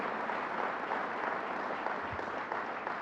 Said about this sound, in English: To the great County Executive of Suffolk County, Steve Ballone, let's give him a round of applause